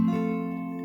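A brief, correctly strummed guitar chord rings with a clean, steady sustain and slowly fades. Close, with no voices.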